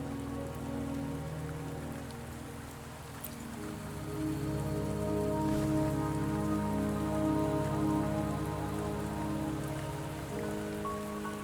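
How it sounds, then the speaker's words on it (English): Steady rain falls in the Wuthering Waves video game, a dense even patter on surfaces close by, continuous and unbroken with no voices over it. "Don't worry, the rain won't last much longer."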